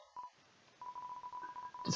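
A rapid string of short, bright telephone dialing beeps in the video game Undertale, following a brief opening tone, plays fairly faintly against near silence.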